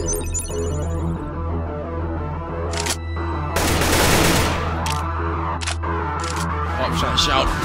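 Bursts of rifle gunfire in CS:GO, including a close-range AWP no-scope sniper shot, crack out as several sharp, loud reports spread across the span, over steady game ambience and a low hum.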